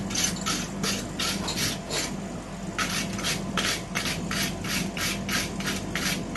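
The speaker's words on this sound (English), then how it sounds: "Give that a little tickle with your brush." A wire brush scrubs scale off a hand-forged metal wand in quick rhythmic rasping strokes, a short burst, a pause, then a longer run of even back-and-forth scratches, close and moderately loud.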